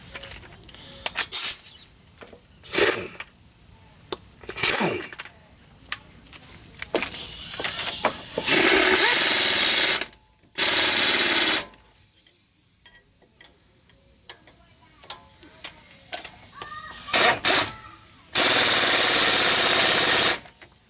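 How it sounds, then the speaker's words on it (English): Impact wrench tightening a 19 mm brake caliper bolt on a 2006 Chevy 1500 4x4, several loud sustained rattling bursts separated by ticking, clicking handling noises. "we can go ahead and impact it on"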